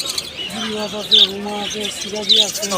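Giribaz and Huma pigeons coo and a couple of sharp chirps ring out close by at a pigeon market in Fatullah, Narayanganj, with voices talking over the busy market birds.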